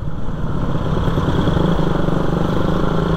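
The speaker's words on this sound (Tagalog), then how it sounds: "pauwi na po tayo ngayon habang tumatakbo pa yung motor" A motorcycle runs along a road in Zamboanga City, its engine loud and close with a steady rumbling putter and faint clatter, and no talk over it.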